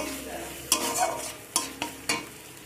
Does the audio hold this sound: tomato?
yes